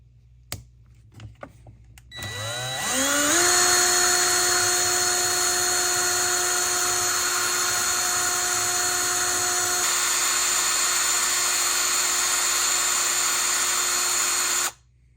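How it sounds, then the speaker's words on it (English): A high-pitched electric drill spins a small RC helicopter rotor-head ball with polishing compound, whirring up to speed and holding a steady, loud whine for several seconds before cutting off abruptly. "let me get this in the drill chuck, and we'll dab a little polishing compound on it"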